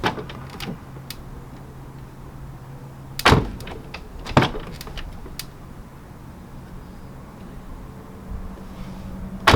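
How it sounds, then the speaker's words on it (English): The heavy door of an Infiniti G35 coupe swings with two loud thuds a second apart, then a low steady hum and faint clicks follow, with a final knock at the end. "I'm sure there's a fix for it, but just straight out of the factory, these are horrible doors. They don't stay, and they're just too heavy."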